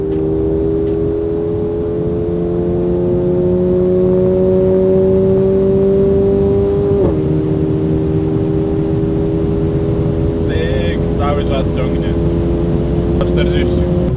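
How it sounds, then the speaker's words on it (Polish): A car engine drops a gear and revs to around 5000 rpm on a bypass during street driving, a loud steady drone that climbs in pitch and then shifts; road noise runs underneath throughout. "Redukcja 5000 obrotów"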